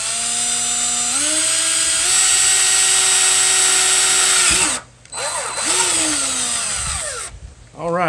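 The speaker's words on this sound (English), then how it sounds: "we're going to drill the second hole right on its mark" Power drill boring a 3/8 inch hole for a poultry watering cup, a steady whining motor that rises in pitch as it spins up, runs several seconds, cuts out briefly, restarts, then winds down near the end.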